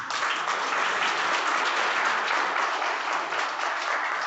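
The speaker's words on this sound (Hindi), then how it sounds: "एक बार जोरदार तालियां।" Loud, dense audience applause and clapping fills the room steadily for several seconds, with no voices over it.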